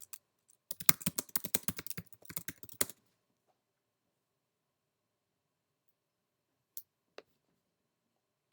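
Fingers type rapidly on a computer keyboard, a dense run of close, light key clicks lasting about two seconds, then silence broken by two isolated faint taps.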